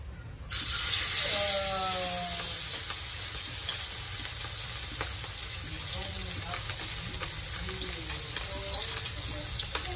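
Steady crackling sizzle of milkfish steaks frying in hot oil, loud and close, with faint kitchen clatter and a brief burst of water early on.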